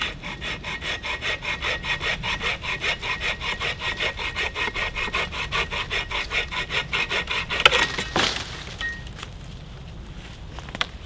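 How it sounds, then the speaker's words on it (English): Ash logs being hand-sawn into firewood at a winter camp in a forest, a loud, even back-and-forth rasp of strokes close by for about eight seconds, then a few knocks and quieter rustling. "I've got some ash as well, which I've been cutting up"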